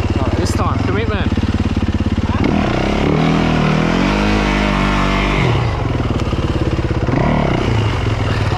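A dirt bike rides an overgrown dirt track, its engine buzzing loud and close throughout, revving up and dropping back in surges as it labours along, with a voice briefly audible over the engine.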